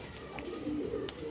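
A Fulshira-line pigeon in a home loft gives a soft, low cooing murmur, faint and close, with a little background noise.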